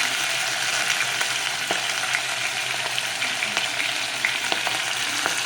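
Onions and fenugreek leaves fry in a pan, a steady, close sizzle broken by sharp scrapes and taps as a spoon stirs them.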